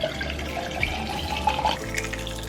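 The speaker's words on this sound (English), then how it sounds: "I'm gonna pour a little bit of it over ice for lunch" Plain sparkling water seltzer poured over ice in a glass, close fizzing and trickling with light clinks of ice, ending in a low steady hum.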